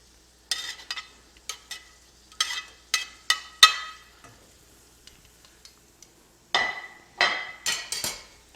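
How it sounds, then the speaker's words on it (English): Onions tossed into melted fat in a pan on a stovetop, heard as a series of sharp clattering, sizzling bursts close by, with short spatters and scraping stirs spaced across the clip and a few louder hissing surges near the end. "I'm gonna go ahead and throw my onions in there"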